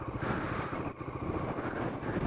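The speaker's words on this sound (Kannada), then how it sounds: "ತುಂಬ ಅಂದರೆ ತುಂಬ ಗಾಳಿ ಇದೆ" Strong wind on a hilltop at Baba Budangiri buffets the microphone in heavy, continuous low rumbling gusts, loud and close throughout with a brief dip midway.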